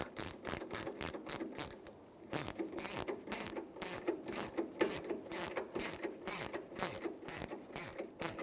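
A ratchet wrench clicks steadily in rapid bursts while snugging a headlight mounting stud on a 2000-2006 Toyota Tundra during a headlight assembly replacement, with close, crisp pawl clicks and brief pauses between strokes.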